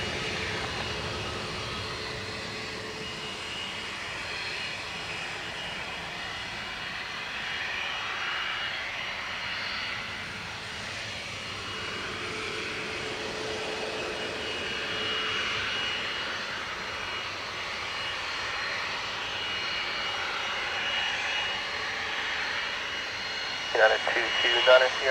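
An airplane taking off at Dublin Airport gives a distant, steady engine roar that lasts the whole stretch under air traffic control radio chatter.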